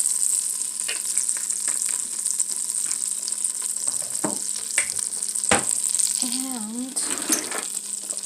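Food frying in a blend of two or three vegetable oils, a steady bright sizzle throughout with faint stirring clinks and a brief spoken word.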